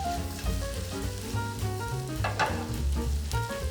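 Bacon sizzles with green beans in a hot pan, a continuous close crackle mixed with a low background tone and occasional tossing clatter.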